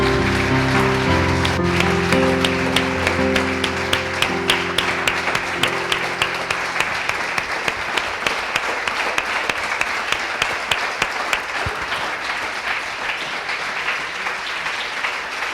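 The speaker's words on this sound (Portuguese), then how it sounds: "E dê uma linda salva de palmas a Ele." A church congregation applauds at a Friday evening service, clapping loudly and continuously as a sustained organ or keyboard chord fades out, with clear individual claps standing out through the dense sound.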